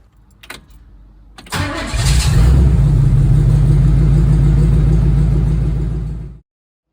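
A 1958 Cadillac hearse, not driven in 16 years, is started: a couple of clicks, then the big engine cranks, catches and settles into a loud steady rumble before cutting off.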